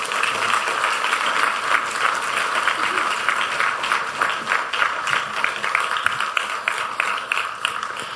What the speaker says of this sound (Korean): 우리 최승환 목사님 나올 때 큰 박수로 환영해 주시기 바랍니다